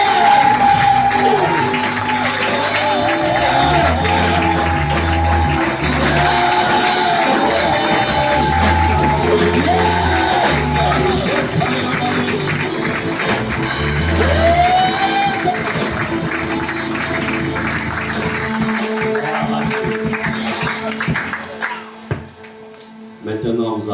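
A church seminar crowd applauds and cheers to welcome a pastor onto the stage, a loud continuous wash of clapping and shouts mixed with music and voices, tapering off near the end.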